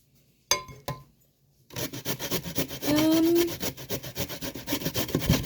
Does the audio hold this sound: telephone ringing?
no